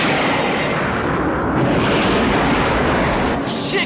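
Simulated missile launch and explosion in the YS Flight combat video game, a loud sustained roaring blast with rumbling low end and a burst of noise near the end, no talking over it.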